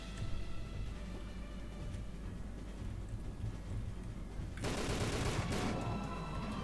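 Gunfire in the video game Tomb Raider: The Angel of Darkness, a dense rumbling fusillade under steady background noise that grows louder and harsher toward the end.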